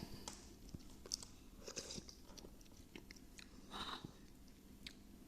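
A large bakso meatball stuffed with chili being bitten and chewed up close: soft, faint, wet mastication with small irregular crunchy bites and no talking.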